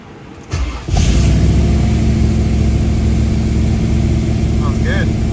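A 1972 Ford Mustang barn find with Holley Sniper fuel injection cranks and fires up, then runs loud and close at a steady rough idle with slight revving, while people talk over it.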